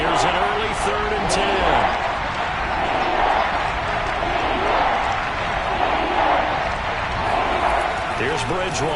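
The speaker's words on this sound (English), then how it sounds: "Crowd getting in it a bit already." Stadium crowd at a football game roaring and cheering steadily throughout, a dense continuous wall of noise with scattered claps and shouts, while an announcer talks over it.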